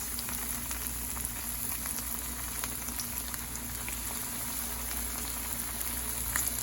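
Tilapia fillets frying in hot corn oil give a steady, soft sizzle and bubbling hiss that runs evenly throughout, with no talking.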